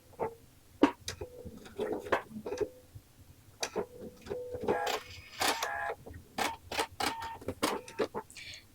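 A sewing machine back stitching along quilt binding gives short, quiet bursts of rapid needle clatter and small mechanical clicks, with pauses between runs.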